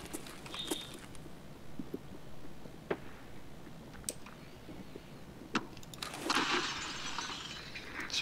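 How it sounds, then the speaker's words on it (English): Glass shatters in the Escape from Tarkov video game, a fairly faint crash with a sharp burst of breaking shards late on, amid scattered small clicks and knocks. "Someone just break glass."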